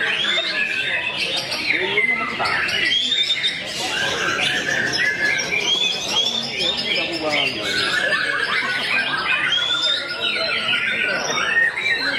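Canaries at a bird breeder's place in Tegal sing in a dense, continuous mix of bright trills and chirps, close and loud, overlapping for the whole stretch with no pauses.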